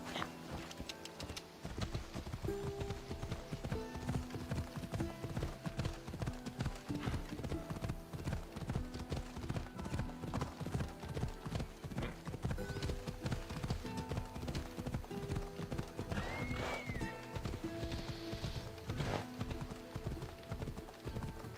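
The horse Phobos galloping in the video game Assassin's Creed Odyssey: steady, rapid hoof clip-clops drumming continuously, loud and close, with game music and a brief whinny-like sound in the mix.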